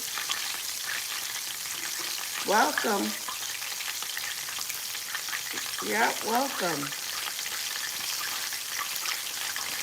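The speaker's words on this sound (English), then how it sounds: "I'm frying chicken." Steady broadband sizzle of gluten-free chicken legs frying in hot oil runs throughout, with a man's short spoken greetings breaking in twice.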